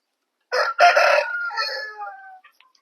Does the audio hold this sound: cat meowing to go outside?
no